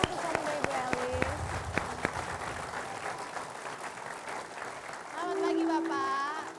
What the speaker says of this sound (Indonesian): tepuk tangan dulu dong untuk suami Ibu Elis